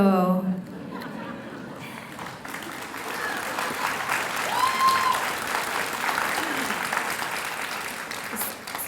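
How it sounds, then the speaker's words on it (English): An audience at a San Jose Japantown Day of Remembrance gathering breaks into sustained applause, a dense, even roar of many clapping hands that swells and holds, with a voice speaking briefly at the start. "So that applause is for all the women who in Japantown are serving as executive directors"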